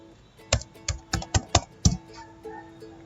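Python code typed on a computer keyboard during a programming lesson: six or seven distinct, close key clacks in an uneven rhythm, then quieter trailing taps.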